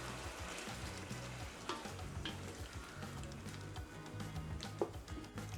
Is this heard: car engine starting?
no